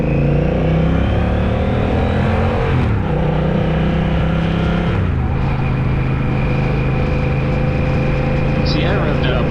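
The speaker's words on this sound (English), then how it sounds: "See, I revved it up a little bit," A 2025 Honda Rebel 1100T motorcycle carrying two riders revs while under way, its engine note rising and falling loud and close over steady road and wind roar, with people talking through it.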